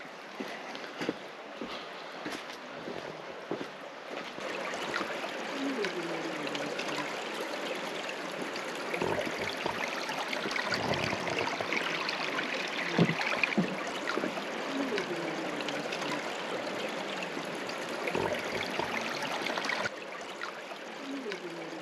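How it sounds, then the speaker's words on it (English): Water flows along an ancient canal dug by Native Americans, fed from the outlet of Montezuma's Well in Arizona. The outdoor trickle and gurgle is soft and continuous, with faint background sounds. "This canal down here, you see the water flowing in, was originally dug by the Native Americans"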